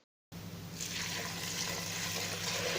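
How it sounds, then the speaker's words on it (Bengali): Water runs steadily into a pressure cooker packed with washed fenugreek leaves, a continuous close pour that starts after a brief silence and holds even and fairly loud throughout. "সবটা মেথির শাক দেওয়া হয়ে গেলে এর মধ্যে দিয়ে দেব 1 লিটার জল।"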